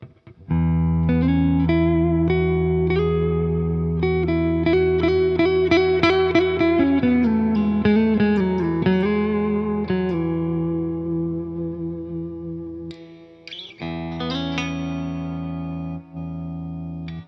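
A Hartwood Deytona II electric guitar plays through distortion with its bridge pickup strongly driven. Notes and chords ring loud and sustained, then fade to a short gap, and a thinner-toned passage follows.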